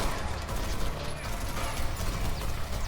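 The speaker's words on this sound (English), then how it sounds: "They just gunned down my man Santa" Dense video-game gunfire, a sustained fusillade of overlapping shots with clattering mechanical noise, fairly loud and continuous throughout with no talk.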